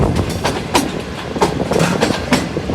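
Green Line Express train running through Lala Musa Junction, heard from on board as a continuous loud rumble with rhythmic clickety-clack of wheels over rail joints.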